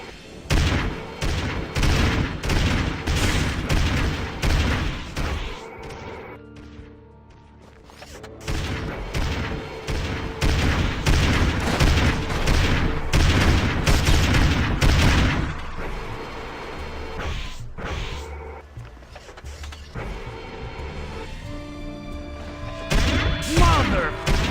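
In Destroy All Humans! Path of the Furon, an alien saucer's weapons destroy a factory: dense, rapid bursts of blasts and crashing explosions come in long volleys, with brief lulls and scattered voices.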